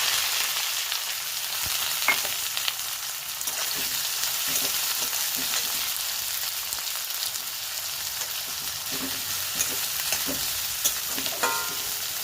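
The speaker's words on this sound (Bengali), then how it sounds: "পেঁয়াজটা একটু লাল লাল করে ভাজতে হবে" Chopped onion fries in a pan with a continuous bright crackling sizzle, close and even, broken by occasional light stirring scrapes and taps, with no talking.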